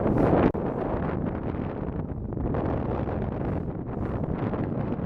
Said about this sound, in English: here's a volume warning for the wind that's coming up here